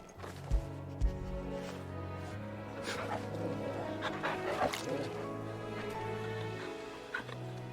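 A pet dog in the Final Fantasy video game being petted, giving short barks and soft whimpers over a steady game music backdrop, with someone talking over it now and then.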